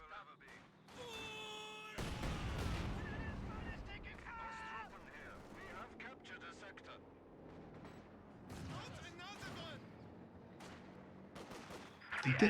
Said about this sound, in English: Both mortars barraging their own squads.